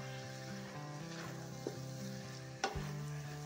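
Coconut laddu mixture with cardamom powder frying in a pan over very low gas, a steady soft sizzle with occasional stirring scrapes and one sharper clatter near the end, close and alone without talk.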